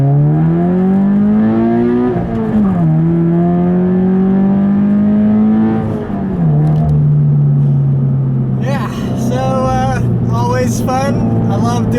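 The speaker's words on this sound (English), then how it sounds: "So as always, I'll leave you with a nice little acceleration." A Subaru BRZ accelerates hard through the gears, engine note climbing, dropping at each shift and climbing again, loud and close from inside the car, with a voice briefly speaking near the end.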